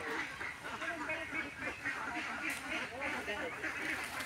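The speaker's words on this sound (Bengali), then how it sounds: "অনেক হাঁস। কতগুলো হাঁস এখানে?" Many ducks, around two hundred, gather at a village pond, giving a steady mass of overlapping quacks and calls close by, with people talking in the background.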